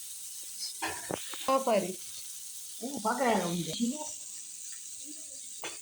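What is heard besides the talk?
fish with masala frying in a pan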